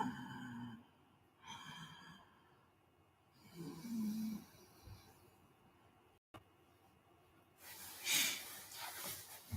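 Pranayama breathing exercise using solar and lunar breathing: slow, heavy nasal inhales and exhales at close range, each separated by quiet pauses, ending in a sharper, louder forceful breath.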